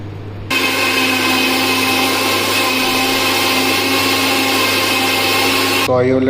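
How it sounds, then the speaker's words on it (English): A kitchen grinder whirs loudly and steadily up close as it grinds tomatoes for gravy, starting abruptly after a short pause and cutting off just before the end. "So I already grinded our tomato also."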